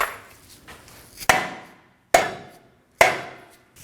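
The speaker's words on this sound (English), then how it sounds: "go ahead and tap it with a mallet" Mallet tapping a lower ball joint into the front suspension knuckle of a 2017-2024 Nissan Armada, three sharp, close metallic blows spaced under a second apart, each ringing briefly, with no talk.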